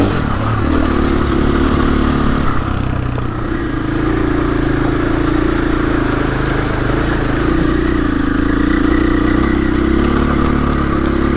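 Kawasaki KLX 300 dirt bike engine revving steadily under hard throttle, a loud, continuous close-up drone that holds through the whole stretch with slight surges, no voices.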